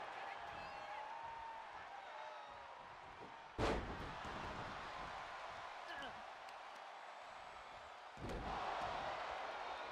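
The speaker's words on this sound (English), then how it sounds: "Oh, slams it down." A wrestler slams an opponent down onto the ring mat at a live wrestling show, giving one sharp, loud thud and a later heavier impact over steady crowd noise.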